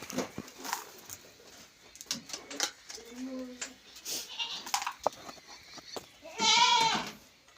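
People talk nearby while goats and kids being dosed for worms bleat briefly and faintly, and one close, wavering bleat comes clearly near the end.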